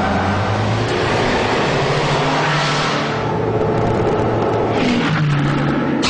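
A Hyundai Excel car starts up and accelerates, a loud, dense roar that swells in two rising surges, one near the middle and one near the end, with no talking.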